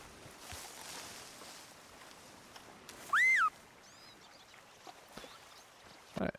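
A player's whistle to beavers in the video game Red Dead Redemption 2, a single rising-and-falling whistle lasting about half a second over quiet outdoor ambience, followed by faint bird calls and a brief later sound.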